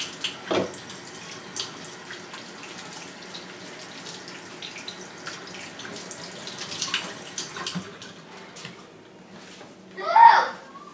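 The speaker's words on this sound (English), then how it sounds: "Wash my hand here." Water runs from a tap as hands are washed, a faint steady trickle under quiet room noise with a few soft clatters and a brief louder splash near the end.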